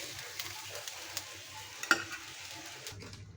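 Food frying in a little mustard oil, a soft crackling sizzle with scraping stirs and a sharper utensil tap midway, close and fairly quiet, no voices.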